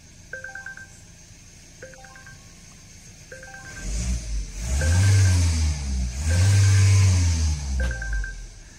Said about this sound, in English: I will stop the engine and I will start it one more time to see if it's stopping correctly and if it's starting correctly again.